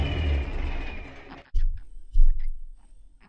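A rumbling tractor engine in Farming Simulator 19 drones loudly, then cuts off abruptly, followed by a few short mechanical clunks and clicks in the quiet.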